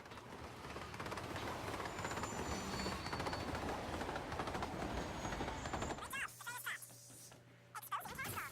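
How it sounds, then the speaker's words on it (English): Payroll train in Borderlands 2 rumbling past as a dense, loud, continuous roar of wheels and cars for about six seconds, then cutting off into quieter game sounds with a low hum. "Not just any train, it's the payroll train."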